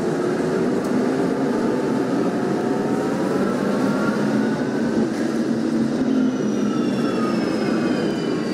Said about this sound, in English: all you can hear is those SD80 sounds